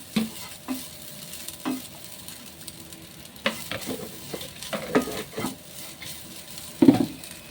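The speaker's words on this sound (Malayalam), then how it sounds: "ചെറുള്ളി പെരിഞ്ചീരകം ഇട്ടിട്ടാട്ടോ വറുക്കണേ" Shallots, fennel seeds and curry leaves fry in a pan with a soft close sizzle, punctuated by repeated stirring scrapes and taps of a spoon at irregular intervals.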